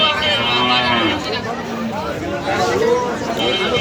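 A bull calf lows at a busy cattle market in Noymail, Chuadanga, its moos clear and fairly close over a steady background of crowd chatter and people talking.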